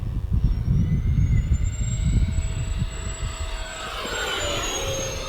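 A radio-controlled A-10 Thunderbolt II model with twin 70mm electric ducted fans makes a full-throttle pass, a high whining whistle rising and falling over gusty wind rumble, fairly near and fading slightly as it goes by.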